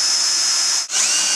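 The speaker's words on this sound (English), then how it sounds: "I'm going to adhere it with a couple of screws from the inside of the frame" Power drill driving screws into a wooden goat stanchion frame, a loud close high whine that briefly stops and immediately starts again.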